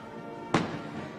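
A single cannon shot fired during a reenactment of the Battle of Zacatecas: one sharp, loud boom that rings out and then fades into a lingering rumble of outdoor noise.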